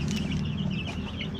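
Hens clucking steadily inside a chicken coop, a dense overlapping chorus of close, continuous clucks with no pauses.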